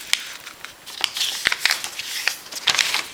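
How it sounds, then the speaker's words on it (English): Paper being folded into an origami rose, close crisp creases and crinkles in irregular bursts with sharp little snaps, alone without talk. "So your first fold would be to fold the paper in half"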